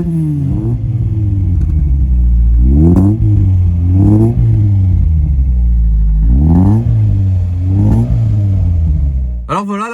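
An idling engine of an Opel Kadett GSI, started after 12 years unused, rumbles low and rough, with a few revving surges rising and falling, close by, and a sharp clatter at the end.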